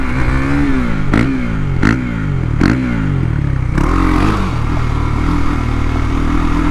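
A KTM Duke 390 fitted with a 56-tooth rear sprocket pulls hard in second gear, its engine note climbing in loud repeated surges that break off briefly and then rise again, with clatter over the revs.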